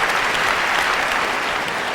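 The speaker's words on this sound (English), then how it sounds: "You weren't supposed to clap that." A studio audience breaks into dense, steady applause, loud and close, many hands clapping at once with no break for the whole stretch.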